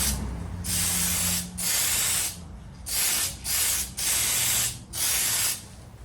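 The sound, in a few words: spray painting third coat on Kyosho Cosmo body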